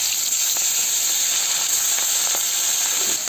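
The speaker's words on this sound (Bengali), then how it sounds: "তেলটা গরম হয়ে গেছে, ওর মাছগুলো ছেড়ে দেবো।" Hilsa fish frying in hot oil in a wok, heard as a steady, dense sizzle and hiss with a few faint crackles, held close and continuous for the whole stretch with no voices over it.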